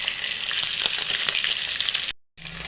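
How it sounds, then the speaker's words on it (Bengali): Hilsa fish heads fry in a pan with a loud, continuous hissing sizzle and a few crackling pops. The sound breaks off briefly near the end, then resumes. "মাছগুলো প্রায় ভাজা হয়ে গেছে"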